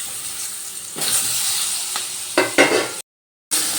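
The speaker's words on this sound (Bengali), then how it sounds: "এবার ওই তেলে দিয়ে দিচ্ছি লম্বা করে কেটে রাখা বেগুন।" Long-cut eggplant slices sizzle steadily in hot mustard oil in a kadai, a close, loud, even hiss with a few sharper crackles before a brief cutout near the end.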